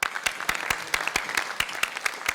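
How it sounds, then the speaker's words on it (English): Brief burst of applause at a conference meeting session, sharp claps landing at a steady, fairly quick rhythm, close and clear with no voices over it. "we should give her a big round of applause accordingly"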